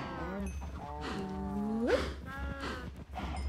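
Cows mooing in Minecraft, a couple of loud close drawn-out moos, one rising sharply in pitch, over steady game background sound.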